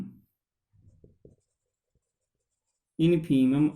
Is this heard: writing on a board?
yes